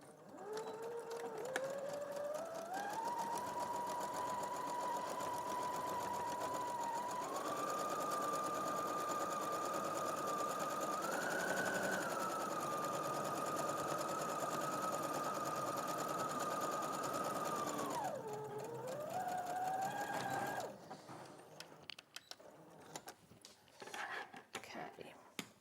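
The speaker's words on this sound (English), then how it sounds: "I'm just going to use an ordinary stitch, and I'm going to do a reverse stitch at the top" A sewing machine runs a steady ordinary stitch with its motor whirring at a constant pitch, dipping briefly as it shifts into reverse stitching, then stops, leaving faint handling noise.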